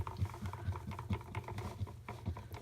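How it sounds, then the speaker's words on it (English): Red colorant being whisked into soap batter: quiet, rapid rhythmic tapping and swishing strokes of a whisk against a container, steady and close, with no talking. "Go ahead and whisk it in here."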